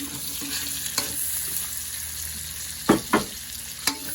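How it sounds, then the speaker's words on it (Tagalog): Onion and chili being stirred in a hot frying pan, a steady sizzle running throughout with a few sharp scraping clatters of the utensil near the end, close and fairly quiet. "Haluin lang natin guys."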